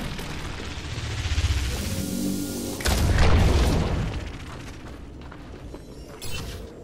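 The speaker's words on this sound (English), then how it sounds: "Sentry turret placed." A sentry turret deploys in a video game with a loud mechanical boom and a rising whir, then a heavy burst and a clanking settle, followed by a smaller thud as it locks into place.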